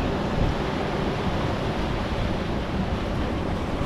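Huge ocean waves breaking along the Yorke Peninsula coast, a steady, loud, broadband roar of surf mixed with wind buffeting the microphone, continuous throughout without talking.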